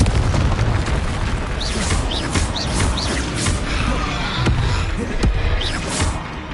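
Confringo explosive spell blasts from the game Hogwarts Legacy, loud repeated booming bursts over dense crackling game noise, with no gaps of quiet between them.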